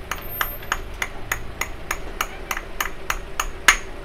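A copper hammer taps a part on a Kawasaki RR engine: about a dozen light, sharp metallic knocks in a steady, evenly spaced rhythm, close up, with one slightly harder strike near the end.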